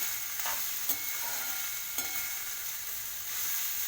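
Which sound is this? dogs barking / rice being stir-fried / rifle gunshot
rice being stir-fried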